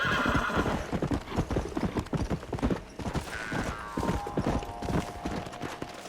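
Horse hooves clip-clop in a steady, busy rhythm across the Red Dead Redemption game world, with a loud whinny rising over them and galloping continuing close and prominent throughout.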